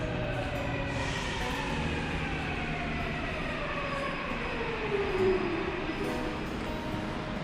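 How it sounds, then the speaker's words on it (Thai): A subway train pulls into an underground station, a sustained metallic rumble with high whining and squealing tones from the wheels and motors, steady and fairly close throughout with a slight swell midway. "รถไฟมาแล้วนะ"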